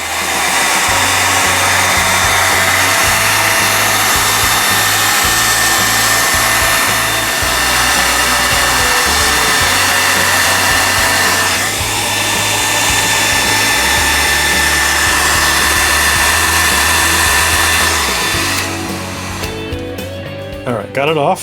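A heat gun blows steadily and loudly for about twenty seconds while it warms the label on a ColecoVision game cartridge, a constant whooshing roar that cuts off near the end.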